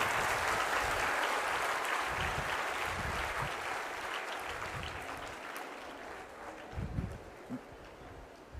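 A crowd applauding at a motivational speech, with dense continuous clapping that fills the room, then slowly thins and fades toward the end, with a few scattered louder claps.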